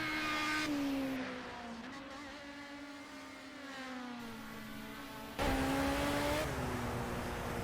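Turbocharged BMW 320 Turbo Group 5 race car in a racing video game, engine note rising and falling steadily as the rear slides out on cold tyres, with a sharp loud surge near the end; no talking.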